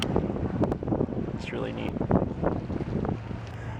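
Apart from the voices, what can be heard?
wind blowing at San Francisco waterfront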